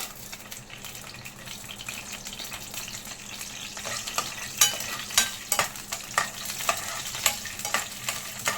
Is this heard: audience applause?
no